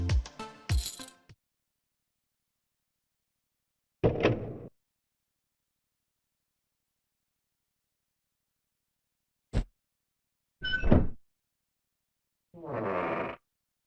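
Door opening in the GameCube game Luigi's Mansion, heard as short, separate creaks and thuds spread across a quiet stretch, with a few sharp clicks and a final drawn-out creak near the end.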